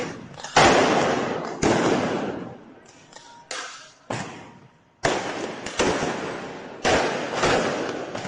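Fireworks are fired at a street protest clash with police in the capital. A series of loud, broadband bursts and booms go off one after another, each decaying with a rushing tail, fairly close and outdoors.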